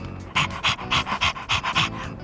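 Koromaru the dog panting in Persona 3 Reload, a run of quick, breathy pants in steady rhythm, close and fairly loud with no talk over it.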